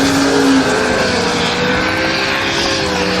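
A supercharged Mustang makes a drag racing pass at a Sick Week 2024 drag strip, its engine a loud, continuous roar close by.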